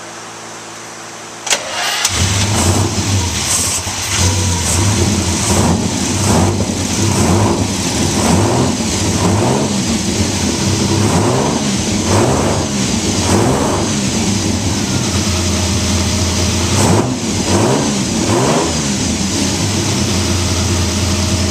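An ice-cold car engine cranks briefly and catches, then settles into a loud, close idle, revved up repeatedly in smooth rhythmic swells, with no voices.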